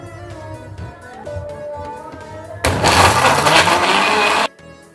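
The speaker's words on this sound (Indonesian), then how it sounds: "Oke, kita blender." An electric blender blending sambal roars loudly for about two seconds, starting and stopping abruptly after a quieter stretch with faint tonal background sound.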